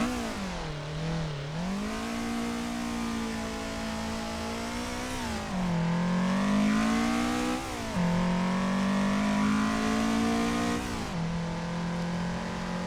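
A drift-spec Toyota 86 in Assetto Corsa, driven on a mountain touge road, revs hard and steadily through the gears, its engine note rising and dipping with each shift and holding loud and close throughout.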